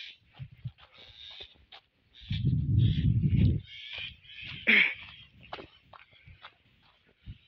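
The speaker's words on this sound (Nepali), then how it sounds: "कुन चरा हो यो" A sharp bird call rings out once amid outdoor rustling, a burst of low rumbling and faint voices nearby.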